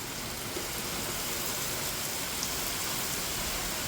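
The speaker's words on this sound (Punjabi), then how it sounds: "ਜਿਸ ਤੋਂ ਬਾਅਦ ਅੱਜ ਤੇਜ਼ بارش ਹੋਈ ਤਕਰੀਬਨ 5 ਵਜੇ ਦਾ ਸਮਾਂ ਸੀਗਾ ਜਦੋਂ بارش ਸਟਾਰਟ ਹੁੰਦੀ ਏ" Heavy rain pours down in a dense, steady hiss with no breaks, an unbroken wash of falling water recorded outdoors during a strong storm with gusty wind.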